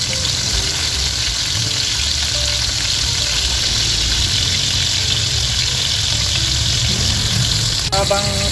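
Breaded fish fries in a pan of hot oil, a loud, continuous sizzle and crackle held steady throughout, close up, with a faint clink near the end.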